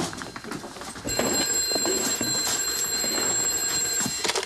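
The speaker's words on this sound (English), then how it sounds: "Telephone's ringing, sir." A steady electric bell-like telephone ring sounds continuously in an indoor room of a period drama set in Greece, 1940, loud and sustained over faint background clatter, with no talking.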